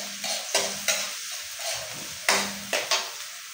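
Garlic and onion sautéing in a pan for chicken feet adobo, with a steady sizzle broken by several scraping stirs of a utensil against the pan, close and moderately loud.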